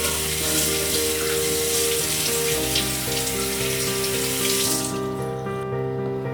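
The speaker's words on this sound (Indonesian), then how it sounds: "Gambas dicuci terlebih dahulu setelah kulit dikupas." Peeled luffa gourd is washed under a running kitchen tap, a steady close hiss of flowing water splashing into a sink, continuous and fairly loud, cutting off near the end.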